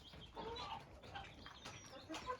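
Chickens in a colourful coop, with a hen and her five chicks underfoot, cluck softly and intermittently, faint and somewhat distant, with occasional rustling.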